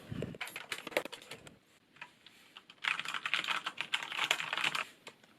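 Fingers type on a refurbished Corsair K70 LUX RGB keyboard with Cherry MX Brown switches and a palm rest, giving quick clattering keystrokes in two bursts separated by a short pause, close and clear.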